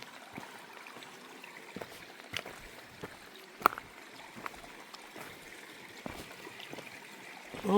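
Mountain stream on the Appalachian Trail in North Carolina, flowing beside a campsite with small pools, a faint steady trickle and wash of water with scattered soft splashes and clicks, quiet and close.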